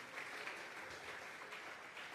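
Church congregation applauding during a Sunday service, a steady, dense wash of clapping that holds evenly for a couple of seconds at moderate distance.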